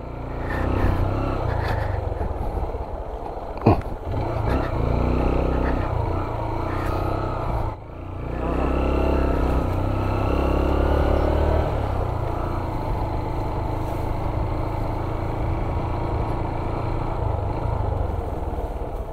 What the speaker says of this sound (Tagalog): Bumabalik kasi yung motor eh.